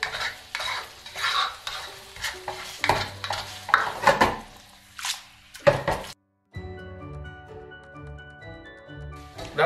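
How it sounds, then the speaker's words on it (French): Pasta being stirred into jjamppong sauce in a pan, with repeated scraping and clattering strokes of a utensil against the pan over a light sizzle, with a short pause near the middle. "vous introduisez vos pâtes et vous mélangez."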